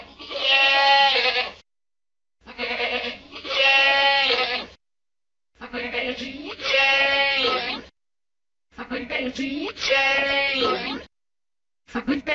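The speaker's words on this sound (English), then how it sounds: "Let's listen to a sheep going into someone saying a monologue." An AI-generated sheep-like bleating voice comes in four long wavering calls separated by silences, loud and close, shifting toward more voice-like tones.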